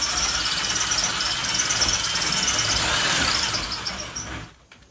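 Power drill enlarging a hole in ceramic shower tile for wall anchors, a sustained high whining grind lasting several seconds before cutting off, loud and close with no voices.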